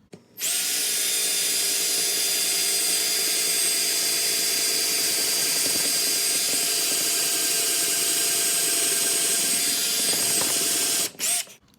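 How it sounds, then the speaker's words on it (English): A power drill whines steadily at high speed drilling into hard maple wood for about ten seconds, close and loud, then stops abruptly. "I can sure tell this is maple. It's hard to drill."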